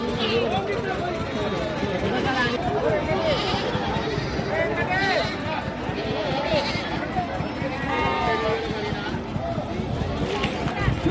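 Sheep and lambs bleat repeatedly amid a busy market crowd of people chattering, the calls overlapping and close by throughout.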